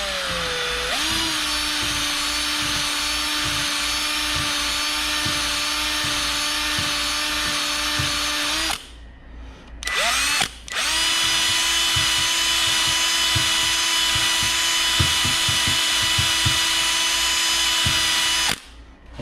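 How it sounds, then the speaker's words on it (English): A power drill fitted with a nylon brush whirs loudly and steadily, briefly stops and restarts, then runs on with slight changes in pitch as the brush scrubs a car's brakes. "now I'm going to take my nylon brush on a drill"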